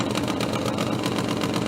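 A Supertwin top fuel nitro drag bike performs a slow burnout at Tierp Arena drag racing, its engine giving a steady, continuous rumbling drone that holds level throughout without a break.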